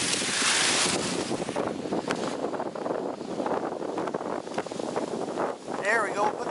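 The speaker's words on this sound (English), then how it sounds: "And it is windy up here." Wind buffets the microphone high up in a treehouse, a rough blustery roar that swells and gusts continuously, with a few faint knocks and a voice briefly heard.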